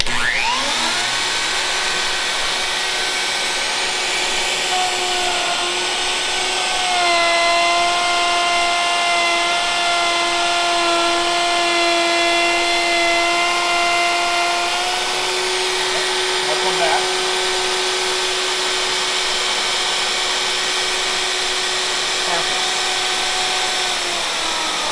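A Festool OF 1400 plunge router running along a guide rail gives a loud, steady high-pitched whine with shifting tonal harmonics as it cuts, continuous and close throughout.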